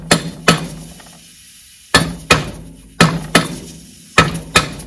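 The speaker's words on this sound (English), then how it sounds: "the hitting with the hammer tends to be paying off" Hammer blows strike a Mercruiser Alpha outdrive lower unit carrier in close, loud pairs, four sharp double knocks spaced about a second apart with ringing metallic decay between them.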